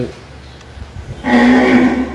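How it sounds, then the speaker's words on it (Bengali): A bull on a beef cattle farm at Kadamtali, Belkuchi, Sirajganj gives one loud, close, sustained moo after a quiet start filled with faint shed noise. "এখানে যেই গরুগুলো আছে সেই গরু এটা পুরোটাই মানে মাংস উৎপাদনের জন্য"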